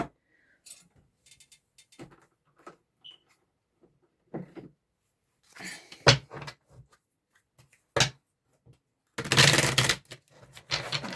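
Clattering, riffling card shuffles in quick bursts, mostly quiet with a few sharp louder flurries near the end.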